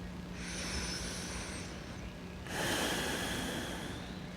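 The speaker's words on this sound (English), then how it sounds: "slow down the breath" Slow, audible breathing during a yoga flow, one long inhale followed by a fuller exhale, close and soft.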